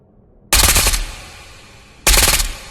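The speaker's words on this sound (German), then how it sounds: "die Waffe hat etwas über 1000 Schuss die Minute, im Gegensatz zu einer Alpha, die nur um die 600, 650 ist" An AS Val rifle fires full auto at just over 1000 rounds per minute in the VR game Ghosts of Tabor. Two loud, close, rapid bursts sound about a second and a half apart, each about half a second long, with no talk.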